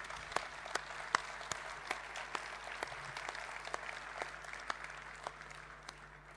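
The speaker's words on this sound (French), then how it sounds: "Il faut les applaudir" An audience at the world premiere of the Citroën DS5 applauds the PSA Group R&D teams, a moderate crowd clapping steadily with a few sharper individual claps standing out above the wash.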